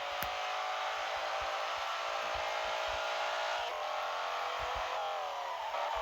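Car engine in the Assoluto Racing mobile game during a BMW M5 versus Mercedes C63 Nürburgring race, a steady high buzzing drone that holds pitch with a faint shift partway through, quiet and without talk.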